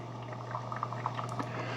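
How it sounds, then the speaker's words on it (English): A standard drip coffee maker, a Cuisinart SS-12 Coffee Center, brewing steadily, with a constant low hum under gurgling, bubbling water that pops and sputters irregularly throughout. "It gets a little loud towards the end of the brew, but it sounds like a standard drip coffee maker right now."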